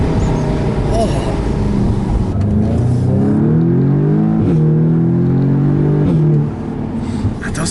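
An Audi S3 engine accelerating hard, its rising whine and rumble sweeping upward through the gears close by, with people talking over it.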